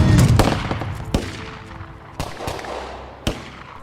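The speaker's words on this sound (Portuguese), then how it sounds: "até que ouve tiros e corre pra lá" Gunshots crack out in a tense street scene: several sharp, isolated bangs at uneven intervals, one heavy burst at the start, then single loud shots spaced a second or so apart, with no talk over them.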